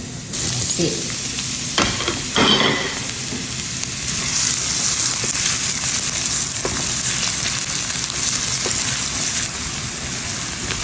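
Chopped onion hits plentiful hot oil left from frying eggplant, giving a steady, close, loud sizzle with a few sharper bursts of spattering and stirring early on; no one speaks.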